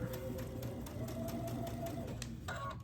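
A sewing machine stitches an appliqué onto a quilt block, giving a steady, rapid mechanical patter of needle strokes close by. The stitching runs continuously and then cuts off near the end.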